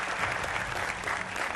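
Studio audience at a Hindi political TV debate applauds to welcome panel guests, a dense, even burst of clapping heard close and alone for under two seconds.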